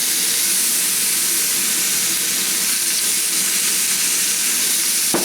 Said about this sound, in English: Want to hear the sizzle of the fizzle.